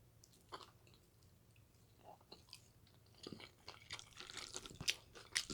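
Someone eating spicy noodles and pork shumai dumplings in a mukbang, with soft close chewing and wet crunching that grows busier and louder toward the end, bites and squishy mouth sounds up close.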